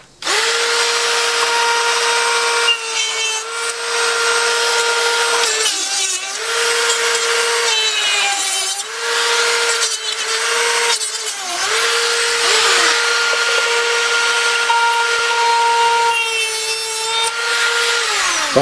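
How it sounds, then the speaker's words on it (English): A Dremel rotary tool grinds off nail tips protruding from wood inside a homemade arcade controller, a loud sustained whine that dips and resumes in several bursts as the cutter bites and is lifted. "I'm going to go in there with a Dremel tool and just cut those right off and make them smooth"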